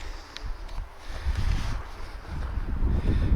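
Strong wind blows across an outdoor air-rifle shooting range, buffeting the microphone in uneven low gusts that build louder toward the end, with no talking.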